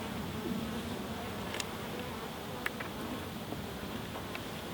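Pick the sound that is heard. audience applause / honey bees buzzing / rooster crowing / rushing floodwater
honey bees buzzing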